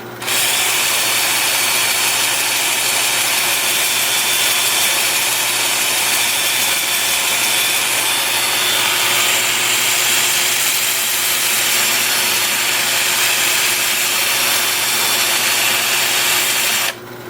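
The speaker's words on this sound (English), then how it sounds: "Got the lathe spinning in reverse at about 360." A woodturning lathe spinning in reverse at about 360 rpm while a tool cuts the wood: a loud, steady, unbroken whirring scrape that holds at the same level from start to finish.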